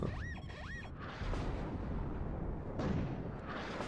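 Artillery and mortar fire in the WARNO war game: heavy booming impacts and rumbling blasts rolling under a continuous low battlefield roar, with a short whistling sweep at the start.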